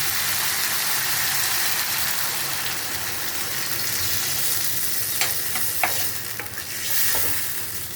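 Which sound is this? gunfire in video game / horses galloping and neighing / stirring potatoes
stirring potatoes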